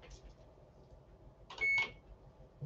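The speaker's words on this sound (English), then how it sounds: "So let's hit the button on the kettle." An electric kettle is switched on with one short, clear electronic beep, loud and close against a quiet room background.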